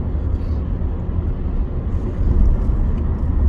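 Car engine while driving on a road in Fife, Scotland, a steady low rumble and road noise rising slightly toward the end, with no talk over it.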